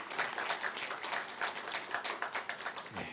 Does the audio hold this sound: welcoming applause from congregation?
yes